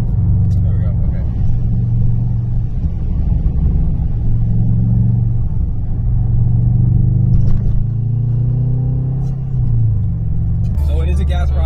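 A Subaru car engine hums at a steady low drone while driving, with pitch shifts as gears change and a brief clatter near the end.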